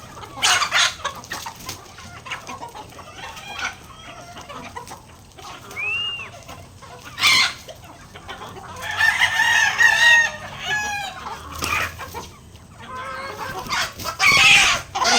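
Chickens cluck in short bursts while a rooster crows loudly several times, with nearby birds chirping over faint background noise and no talking.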